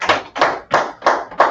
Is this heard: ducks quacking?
no